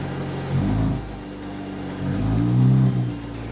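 Engine of a Genesis G70 car revs up twice in close succession, each a loud low throaty surge that rises and falls, the second held a little longer.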